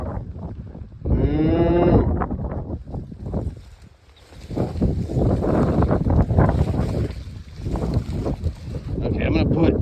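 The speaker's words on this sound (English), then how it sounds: "There's some cattle over there." Cattle low in a swamp, a drawn-out moo rising over wind and open-air rumble, with people talking nearby through most of the stretch.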